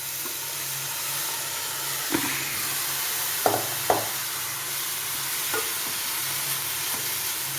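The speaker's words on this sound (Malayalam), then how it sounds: "ഇനി നമുക്ക് നമ്മുടെ തോരൻ കറി ഡീഫ്രോസ്റ്റ് ചെയ്ത് വെച്ചിരിക്കുന്നത് അതിലേക്ക് ചേർത്ത് കൊടുക്കാം" Defrosted bean thoran being stirred into sautéed carrot and onion in a hot pan, a constant hissing sizzle with several scraping spatula strokes and light knocks against the pan.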